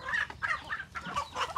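Chickens clucking close by in a run at feeding time, a quick series of short bright clucks and squawks in uneven bursts.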